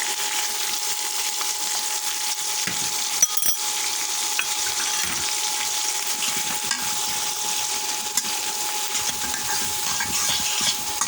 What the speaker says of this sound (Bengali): আমাদের মাছটা কষানো হচ্ছে